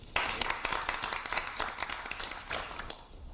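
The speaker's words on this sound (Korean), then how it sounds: "힘찬 박수 부탁드립니다" A crowd applauds steadily at a political party's capital market policy meeting in Korea, many hands clapping together at moderate volume for a few seconds before it tapers off.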